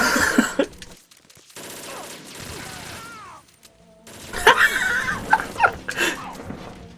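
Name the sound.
gunfire in the video game Metal Gear Solid 2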